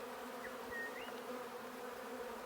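A swarm of honey bees being introduced to a Kenyan top bar hive, droning in a steady, dense buzz up close with no talk.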